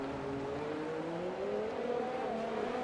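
Red Bull Formula One race car with its front wing missing, driven in a racing game at the Canadian circuit under a virtual safety car, giving a steady buzzing engine note that rises gently in pitch, loud and uninterrupted.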